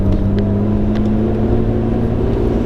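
A Nissan Skyline GT-R fitted with an aftermarket cam drives along, its engine giving a loud, steady, lumpy drone at even revs throughout.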